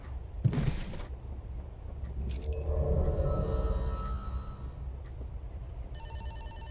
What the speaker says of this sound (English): Hold on, chat. I got a call.